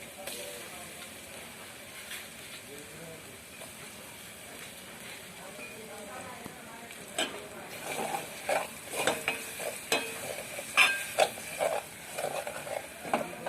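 Crushed green chillies fry in a pan: a quiet low sizzle at first, then repeated scraping and clinking stirring strokes grow busier and louder through the second half.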